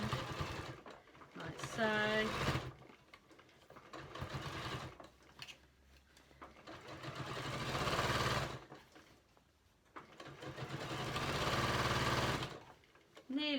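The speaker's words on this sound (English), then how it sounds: "Okay, so sewing it all the way around" A sewing machine stitches all the way around the edge of a fabric storage box in long bursts of steady whirring with pauses between runs, and someone talks briefly between the passes.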